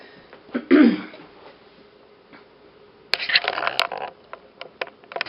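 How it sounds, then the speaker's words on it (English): A single throaty cough up close, then after a pause a burst of rough coughing and throat clearing mixed with small clicks and rustles. "I'm going to be coughing now."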